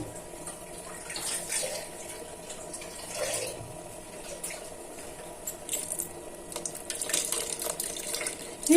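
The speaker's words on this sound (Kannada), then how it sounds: "ಈಗ ಜಾರಲ್ಲಿರೋ ಅಂಥ ಮಸಾಲೆಗೆ ಸ್ವಲ್ಪ ನೀರನ್ನ ಸೇರಿಸ್ಕೊತೀನಿ" Water poured into a jar of masala paste while cooking vegetable sambar, a steady trickling and splashing running throughout at moderate level with no talk.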